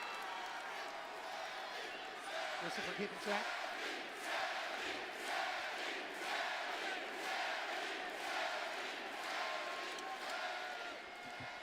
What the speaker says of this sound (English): United States of America cheering for a Canadian.